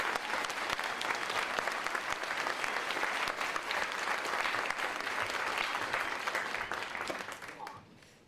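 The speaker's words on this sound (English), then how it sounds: "Let's give all of these students a round of applause for their exceptional work at the College of Nursing." Sustained, dense applause from a commencement crowd honoring College of Nursing graduates, steady and loud for several seconds before tapering off at the end.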